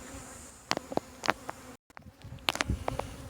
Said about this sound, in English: these are all just nice, great big boxes of bees.